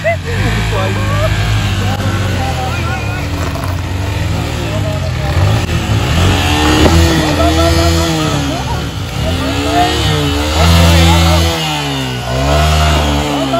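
A motorcycle engine revs up and down in repeated rising and falling surges, loud and close, with voices audible over the engine noise.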